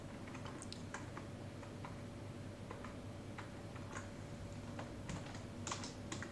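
Typing on a computer keyboard: scattered, fairly quiet keystrokes in irregular bursts over a steady low room hum, with no voices.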